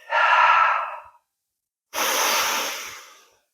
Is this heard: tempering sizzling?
no